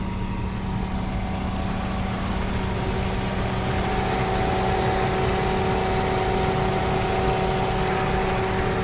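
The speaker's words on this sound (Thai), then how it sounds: "ลูกค้าฟังเสียงเครื่องนะ" A Toyota sedan with a 1.6-litre engine and manual gearbox idles steadily, giving a continuous, even hum with faint tonal whine and no talking over it.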